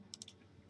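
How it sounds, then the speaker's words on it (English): Several quick, faint clicks of a computer keyboard being typed on, with a slightly louder burst of keystrokes at the end and no talk over them. "She's typing, probably."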